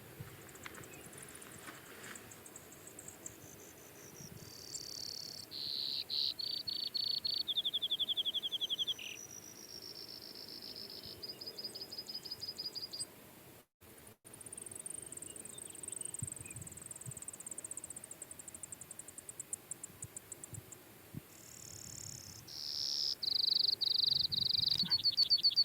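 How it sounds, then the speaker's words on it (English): Brewer's sparrow singing in sagebrush at sunrise: high, buzzy trills and rapid chip series repeat in long varied phrases over a steady background of insect or cricket hum, with no voices. "So that is the wonderful brewer's sparrow."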